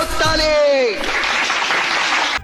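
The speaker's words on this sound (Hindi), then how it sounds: "बजाओ ताली" After a brief shouted voice, a live audience bursts into applause, a dense steady wash of clapping that holds loud for about a second and a half before cutting off abruptly.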